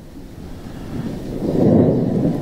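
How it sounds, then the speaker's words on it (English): Thunderstorm sleep sound from a Divoom Timebox Mini Bluetooth clock speaker: a low, rumbling wash of rain and distant thunder that slowly swells louder, steady and without voices. "So let's try doing a thunderstorm."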